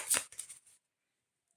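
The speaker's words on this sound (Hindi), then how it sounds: "One last shuffle." A deck of tarot cards shuffled once, a brief close riffling flutter lasting under a second, then silence.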